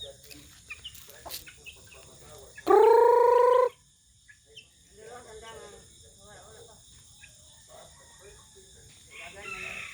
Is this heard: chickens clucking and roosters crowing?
yes